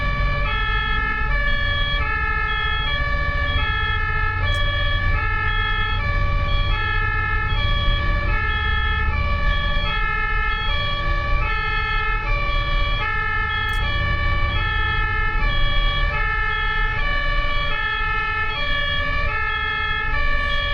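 An ambulance siren in Germany sounds steadily and loudly over road traffic and engine rumble, a sustained two-tone wail that swings back and forth between pitches throughout.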